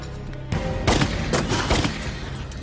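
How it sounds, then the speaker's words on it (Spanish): A rapid burst of gunshots cracks through the night in a Tintin adventure set in Peru, several loud overlapping reports following one another over a rumbling background. "Los disparos resuenan en la noche, pero Tintín consigue evitarlos por poco"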